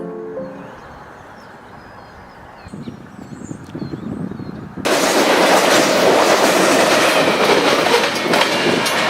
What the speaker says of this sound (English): You got BNSF coming through here.